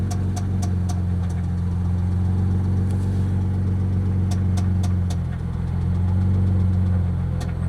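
Turbocharged Chrysler LeBaron engine idling steadily with a low rumble and a faint repetitive knock from a suspected bad rod, close up and continuous with no talk.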